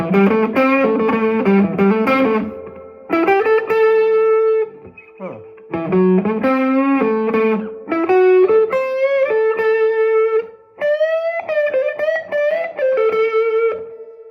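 Electric guitar played through a Fender Tone Master Deluxe Reverb amp with the reverb cranked all the way up, loud chords and sustained notes in bursts, each phrase trailing into a long washy tail, with short gaps between.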